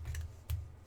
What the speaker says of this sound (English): I'm just going to cut these out